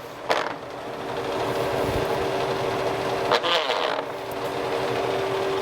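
A Kearney & Trecker milling machine with a Model 2H vertical head attachment runs steadily in a higher gear, a sustained mechanical hum with a faint whine, a couple of brief clanks partway through, and a voice talking over it.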